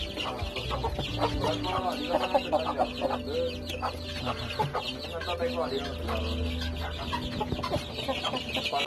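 Native country chickens from the Palakkad area, with month-old chicks, cluck and chatter busily nearby. Several birds call over one another in a continuous, lively flock murmur, and a low rumble sits underneath.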